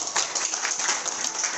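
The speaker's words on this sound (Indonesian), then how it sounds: "Tepuk tangan dulu dong untuk Nagaya." Applause from an audience at an Indonesian talk on choosing gold and other assets, a dense and steady patter of many hands clapping at fairly close range throughout, with no one speaking over it.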